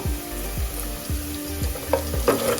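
Chopped onions and a sprig of curry leaves sizzle steadily in hot oil for Andhra-style sambar, a close, continuous frying hiss with a few louder pops and a faint stir near the end.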